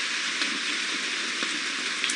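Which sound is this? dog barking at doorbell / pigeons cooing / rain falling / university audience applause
rain falling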